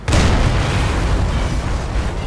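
A loud, dense explosion from the Crysis Warhead video game bursts at once and rumbles on as a sustained, heavy roar with no pause through the whole stretch, and no voices are heard.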